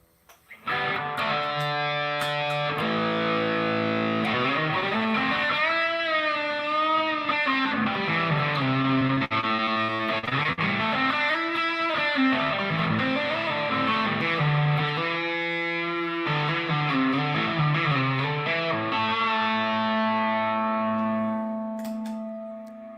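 An electric guitar played through a distortion effect unit sustains gritty, heavily saturated notes and bends for about twenty seconds, loud and continuous with sliding pitch, then fades out at the end with no talking.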